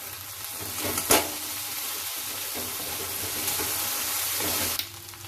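Okra fries in a pan with salt, turmeric and chilli powder while being stirred, giving a continuous close sizzle with a couple of sharp spatula scrapes and knocks against the pan.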